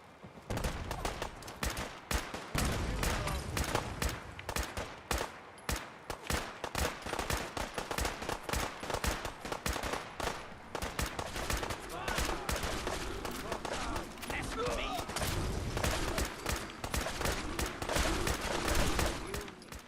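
Dense, rapid gunfire in a Fallout 4 defensive battle against creatures coming out of the fog, continuous volleys and automatic bursts crackling for the whole stretch, loud and close, with shouting voices mixed in.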